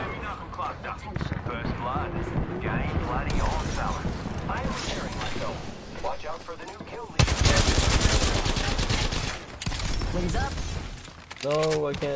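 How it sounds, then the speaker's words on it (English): Gunfire from the battle game Apex Legends, several bursts with a dense rapid volley in the middle, mixed with game effects and heard under a player's talking. "Being shot at."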